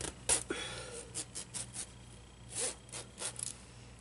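A series of short scratchy jacket zipper pulls, quick and close up, with small pauses between strokes and a faint low hum underneath.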